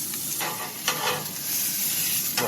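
Steak seasoned with paprika, salt, pepper and garlic powder sears on a hot grill during a winter truck-camping trip, giving a loud, steady sizzle with brief crackling flare-ups and no talk.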